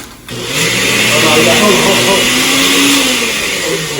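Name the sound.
blender running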